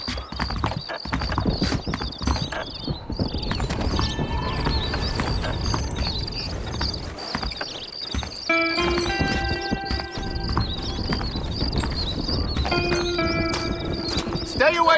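Horse hooves clatter steadily with occasional whinnies, mixed with game music and voices talking over the busy scene in Red Dead Redemption.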